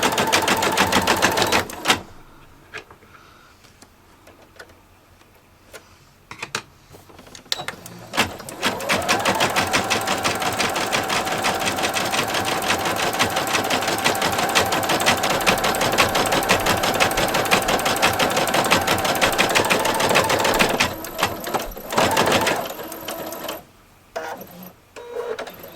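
An embroidery machine stitching a design onto toilet paper runs in a fast, steady mechanical chatter for long stretches, stopping and restarting between short quieter gaps, loud and close.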